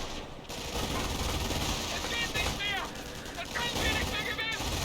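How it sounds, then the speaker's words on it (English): MG42 machine gun fire in the World War II strategy game Company of Heroes, dense rapid bursts amid battle noise, with overlapping speech throughout. "MG42 getting some good damage in."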